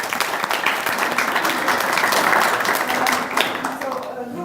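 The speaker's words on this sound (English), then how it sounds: "can we give them applause?" Audience applause at a youth forum, steady dense clapping for a few seconds with a hint of voices mixed in.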